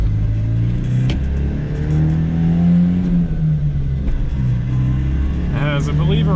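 A small old manual car with an engine of about 25 horsepower runs close by, a low rumbling drone that rises and falls slightly as the revs shift.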